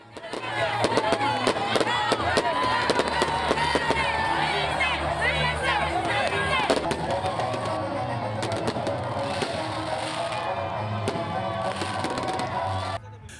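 Midnight New Year's Eve fireworks at an official town display, with rapid crackling bursts and sharp bangs over a loud cheering, shouting crowd that carries on throughout.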